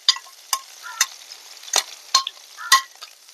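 A spoon stirs onion, ginger, green chilli and curry leaves frying in a pan for a Kerala prawn dish, giving about seven distinct scraping clacks over a soft, steady sizzle, with no voices.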